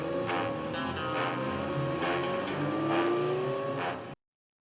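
A car in the Bond film The Spy Who Loved Me drives with a steady engine drone and shifting tones under film score and effects, loud and continuous before cutting off abruptly.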